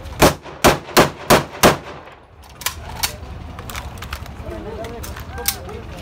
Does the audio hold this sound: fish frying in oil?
no